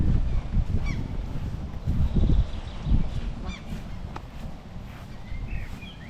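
Ducks or geese at a pond in Örebro City Garden give several close honks spread through the stretch, over steady outdoor background noise with footsteps.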